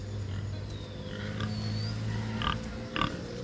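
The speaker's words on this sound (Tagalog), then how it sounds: "Tingnan yung mga baboy nila." Large pigs tied to a tree at a beach camp grunt and snort in short bursts over a steady low hum, with a couple of sharper squeal-like calls near the end.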